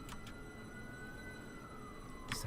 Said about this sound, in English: Sirens are ablazing.